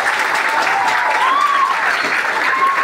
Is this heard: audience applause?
yes